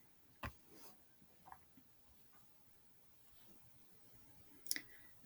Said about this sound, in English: you'll just click on this link